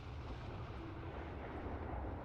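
Storm noise from the video game Outer Wilds: a dense, steady low roar and rumble like wind-driven thunder, continuous and fairly quiet throughout.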